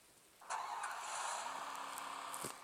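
A vehicle engine in the Free Fire battle-royale video game starts and runs steadily for about two seconds at moderate level, with a few brief clicks over the hum.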